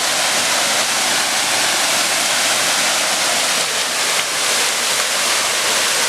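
Waterfalls at Tamarana, Paraná, pour in a loud, steady, close roar of rushing water, broadband and unbroken throughout, with no talk.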